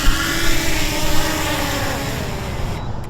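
An agricultural drone flies over crop fields, its propellers giving off a loud, steady droning whir that stays close and constant with no talk over it.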